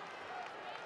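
Spanish supporters cheer and applaud in an arena at a women's handball semi-final against Montenegro, a steady broad roar of crowd noise without distinct peaks.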